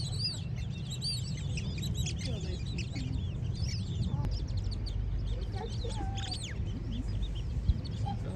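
Ducks quacking and chattering at a distance over a low outdoor rumble, with scattered bird calls throughout, at an inlet in Kakadu National Park, Australia.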